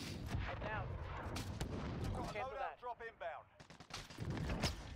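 Bursts of gunfire in the Call of Duty: Warzone video game crackle at moderate distance, rapid repeated shots in clusters mixed with faint voice and background noise.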